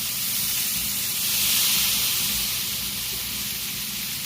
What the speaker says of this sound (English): you want it to sort of sear off nicely, get a nice colour, nice caramelisation